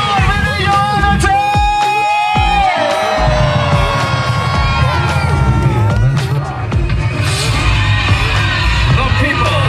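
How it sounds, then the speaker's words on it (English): A large crowd screams and cheers loudly throughout at a night park fire show, with shrill whoops, yells and children's shouts layered over rumbling music and occasional bangs. "When I say with your energy, I want everybody here to scream."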